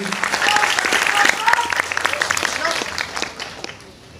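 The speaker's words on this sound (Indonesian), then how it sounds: "boleh tepuk tangan yang meriah sekali lagi." Audience applause at a live traditional kendang drum performance event, a dense wash of clapping that swells early and gradually fades out, with voices talking over it.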